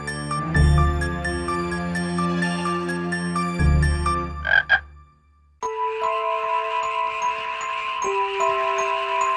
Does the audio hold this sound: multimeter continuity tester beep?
no